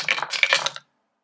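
Dice clatter and rattle across a tabletop during a board game, a quick burst of small hard clicks lasting under a second, close and fairly loud, then silence.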